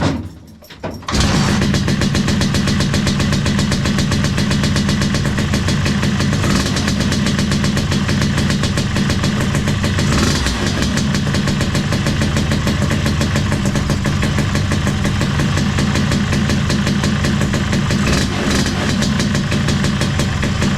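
TS1 cheap scooter engine build running on first start, a brief quiet moment and then a steady, loud two-stroke buzz that keeps going without pause and with no talk.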